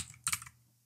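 A brief, quiet flurry of key clicks on a computer keyboard while entering JavaScript code, a few fast taps close together that then fade into near silence.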